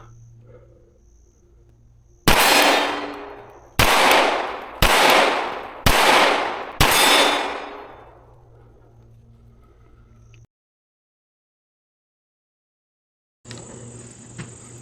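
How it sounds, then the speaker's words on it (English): Five sharp gunshots from a newly ported Taurus PT92 pistol, a Beretta 92 style handgun, fired outdoors at a target in an uneven rhythm, each loud crack trailing off in a long echo, over faint insect buzz. "Just going to shoot it a little bit and see what it feels like."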